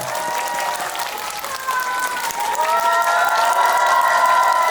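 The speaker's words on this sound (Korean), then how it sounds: "박수로 네 보내드리겠습니다" Audience applause at a cinema stage greeting at Megabox Seongsu, steady close clapping that swells toward the end, with a few cheers and voices mixed in.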